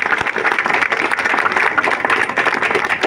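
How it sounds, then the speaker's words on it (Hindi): Villagers clap together at the inauguration of a zebra crossing in a village, producing close, loud, dense applause with a quick pulsing texture that holds steady for about three seconds. "तो गांव वालों तालियां।"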